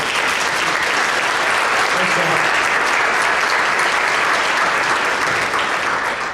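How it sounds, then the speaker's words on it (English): A large conference audience gives a loud, sustained round of applause, dense even clapping with no talk over it, holding steady from start to finish. "please stand up and let's give them a round of applause"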